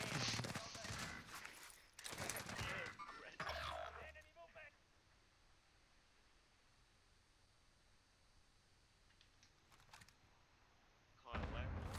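Gunfire in a battle royale video game, brief bursts of shots with players talking over them, a quiet stretch, then more shooting at the end.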